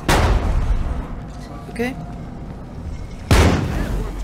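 Two loud, close grenade blasts in the zombie survival game State of Decay 2, a booming hit at the start and another about three seconds later, with a voice speaking briefly between them.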